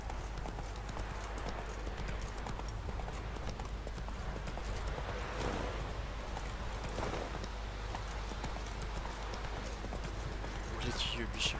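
Roach, the horse in the video game Witcher 3, gallops in a fast, steady clip-clop of hooves running on and on, with game ambience and someone talking over it.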